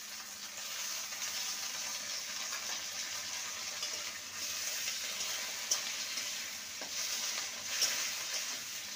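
Onion and a medium tomato fry gently in a pan, a steady soft sizzling hiss with a few faint clinks and scrapes, fairly quiet and continuous.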